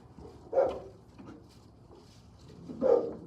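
Two barks from dogs indoors, reacting to a delivery driver across the street, each a single mid-distance woof about two seconds apart over a quiet room background.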